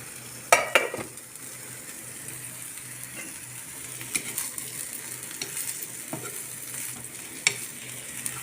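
A hamburger sizzles and crackles steadily in a pan over low heat, with a few sharp clicks and clinks of a utensil early on and scattered pops throughout.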